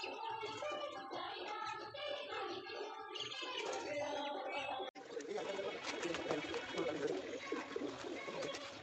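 Pigeons, among them a Lahori, feeding on the ground and softly cooing and fluttering nearby, steady close bird calls with a brief cut midway; a voice talks in the background.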